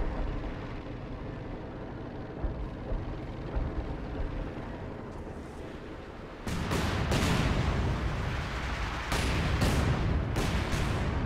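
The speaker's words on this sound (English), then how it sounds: "More light artillery being dropped in the center." A light artillery barrage in Company of Heroes: after a low, quiet battlefield rumble, several heavy impacts land in quick succession, with sharp booming bursts and rolling echoes.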